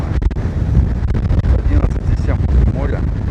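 Gale-force wind whips across a stormy Black Sea beach at Anapa, blowing sand, roaring and buffeting the microphone in loud gusts over crashing surf, with someone talking briefly beneath it.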